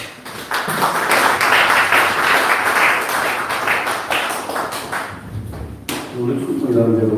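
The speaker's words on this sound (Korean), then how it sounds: "박수로" Applause from a church audience at a pastors' forum, a dense sustained clatter of many hands filling the room for several seconds, ending with a brief break and then talk.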